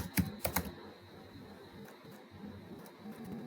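Typing on a computer keyboard, a quick burst of three close key clicks at the start followed by a few fainter, scattered taps over quiet room noise.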